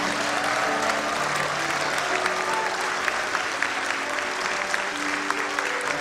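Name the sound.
congregation applause at church ordination service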